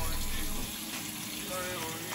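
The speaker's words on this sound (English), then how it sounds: "I'm going to wash my hands now." Running kitchen sink tap while hands are washed during home cooking, a steady close rush of water with no break across the whole stretch.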